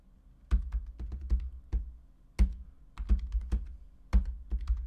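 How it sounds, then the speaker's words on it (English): Thumb typing on the stiff keys of a PinePhone Pro keyboard case for the Linux smartphone: irregular, close, crisp clicks and thunks in short bursts with brief gaps between. "The keyboard's hard to press with your thumb"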